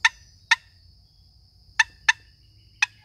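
A long box turkey call gives five soft, short clucks from light pats, spaced unevenly and ringing sharply in a quiet setting.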